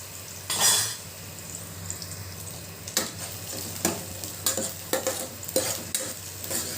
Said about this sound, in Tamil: நல்லா வதக்கி விட்டுட்டு கோல்டன் ப்ரௌனாக வதங்கிடட்டும்.